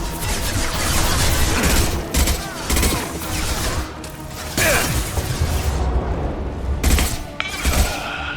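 In a Mass Effect 2 battle an impact shot is fired amid continuous loud gunfire, rattling mechanisms and crashing impacts, with squad voices calling out over the chaotic firefight.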